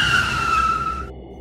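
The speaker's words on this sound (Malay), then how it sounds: "Pemandu menekan brek dengan tiba-tiba." A car brakes suddenly, its tires giving a loud, sustained skid squeal that holds steady, then cuts off abruptly into quiet.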